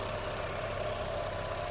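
A used Honda Jazz idles in a car showroom, its engine giving a steady even hum with a faint constant tone, brief and uninterrupted.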